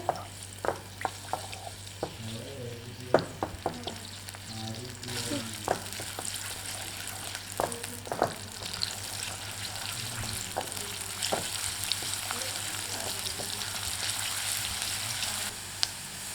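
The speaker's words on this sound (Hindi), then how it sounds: "अब हम इसमें लहसुन अदरक डाल देंगे, इसको फ्राई करेंगे अच्छे से" Garlic and ginger sizzle steadily in hot oil while cooking palak saag, with scattered clicks and scrapes from stirring, close and continuous throughout.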